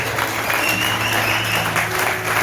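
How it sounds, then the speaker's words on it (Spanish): A church congregation claps together in praise, a dense, sustained wash of applause from many hands filling the room evenly with no pauses. "Denles ofrenda de palmas a Jesús"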